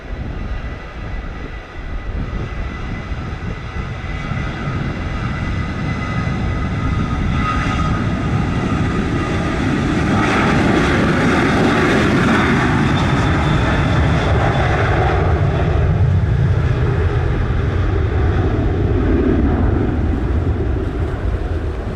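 An Airbus A330-300 airliner takes off at Montego Bay, Jamaica, its engines building into a loud, sustained roar that swells over about twenty seconds and stays close and dominant, with no talk over it.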